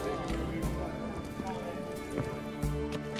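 Horse hooves clip-clop in The Witcher 3: Hearts of Stone, a steady run of soft hoof hits mixed under game music and ambience, with voices speaking over the scene.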